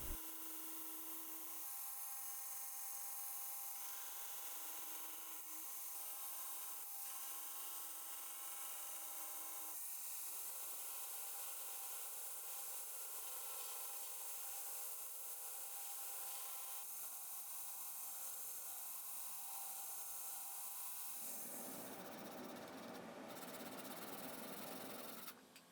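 A power tool grinds steadily against a Bowie knife handle as it is shaped, a continuous loud abrasive whine that shifts in pitch and texture over about twenty-five seconds, with no voices.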